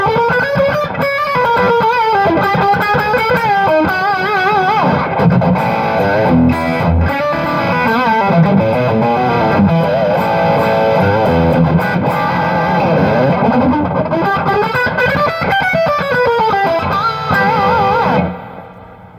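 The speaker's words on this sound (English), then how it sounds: "you can hear the amp start to buzz a little bit" A heavily distorted electric guitar plays sustained, buzzing chords and runs through a high-gain Peavey 6505 MH amp, loud and continuous before cutting off at the end.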